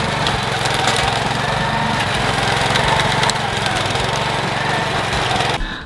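A HINOTA 9 hp walk-behind tiller engine runs hard, churning wet, sticky soil with a loud, steady buzzing drone held close for several seconds before cutting off abruptly at the end.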